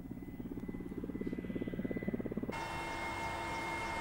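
A warlord's helicopter flies over northern Afghanistan, its rotor thumping in a steady rapid beat that grows louder, then gives way to a constant engine roar, with no talk.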